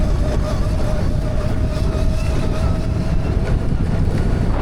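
Full-throttle run on a Mototec 60v Pro electric ride, with a loud steady roar dominated by wind buffeting and a faint motor whine underneath, unbroken throughout.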